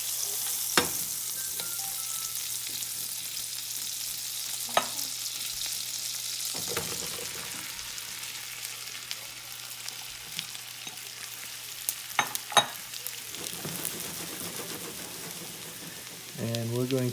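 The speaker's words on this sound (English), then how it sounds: "we're going to start cooking our mushrooms" Mushrooms frying in butter in a large pan over medium-high heat produce a continuous crackling sizzle with occasional sharp pops and utensil knocks, fairly close and steady throughout.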